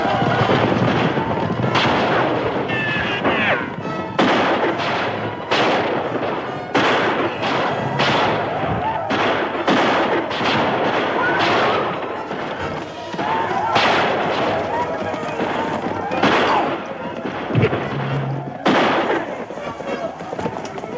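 Gunfire in a western movie battle: dense volleys of rifle and pistol shots crack and boom repeatedly for about twenty seconds, loud and close, with shouting voices mixed in among the shots.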